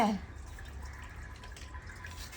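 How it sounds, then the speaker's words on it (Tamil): Water runs from a tap in a steady, soft, close stream with faint dripping texture, continuing alone at low volume throughout. "இந்த பொண்ணு தண்ணி திறந்து விடுது பார்த்தியா?"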